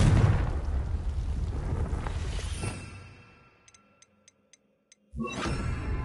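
Confringo blasting spell in Hogwarts Legacy, a loud rumbling explosion that decays over a few seconds, followed by a handful of soft ticks in near silence and then a second burst of noise.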